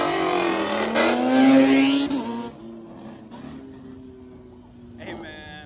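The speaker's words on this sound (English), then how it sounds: "Mustangs really sound great for real" Ford Mustang at a cars-and-coffee meet accelerating hard, a loud rising engine roar that climbs and peaks around two seconds, then drops off into quieter lower rumbling with another brief rise near the end.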